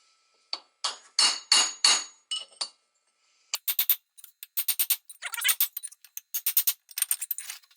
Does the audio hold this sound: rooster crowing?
no